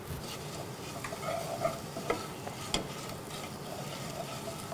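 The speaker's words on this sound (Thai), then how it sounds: "ถ้าเราอยากให้กลิ่นเขาหอมมากขึ้นก็คือควรเอาไปผัด" Curry paste stir-frying in oil in a pot for Thai banana flower and shredded chicken soup: a steady close sizzle with occasional scraping stirs, and no talk.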